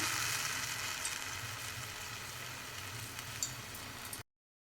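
Tamarind sizzling in hot oil in a pan while making puliyogare gojju, a steady loud crackling fry with small pops, running unbroken and alone before cutting off abruptly.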